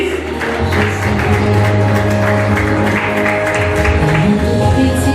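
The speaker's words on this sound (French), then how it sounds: "Applaudissez monsieur Tony Joly" Dense, steady applause from a crowd honouring Mr Tony Joly at a vow renewal ceremony, loud and sustained with a musical tone underneath.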